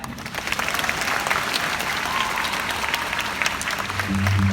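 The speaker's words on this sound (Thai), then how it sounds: "ขอเสียงปรบมือให้กับ" Fan concert audience in a large hall applauding the band, a dense, sustained wash of clapping and crowd noise that swells slightly louder toward the end.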